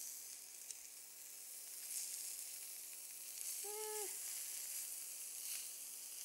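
Scallops sautéing in a hot pan give a steady, fairly quiet sizzle throughout, with a brief tonal chirp near the middle.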